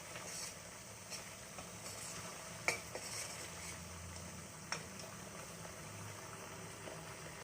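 Onion paste frying in oil in a pan for raw jackfruit masala curry, a faint steady sizzle with occasional sharp taps and scrapes of a stirring spoon, no talking.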